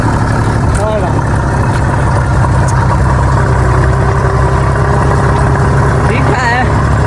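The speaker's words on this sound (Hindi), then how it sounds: "अम्बू जान ट्रैक्टर भी चला रहे हैं" A tractor engine drones steadily while driving on a dirt road, a constant loud low chugging rumble throughout, with voices talking over it.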